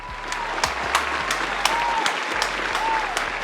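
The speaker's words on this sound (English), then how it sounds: "I had to applaud myself, you know." Studio audience applause for a guest on a talk show, a steady dense patter of clapping lasting a few seconds with scattered sharp claps standing out, and voices faintly mixed underneath.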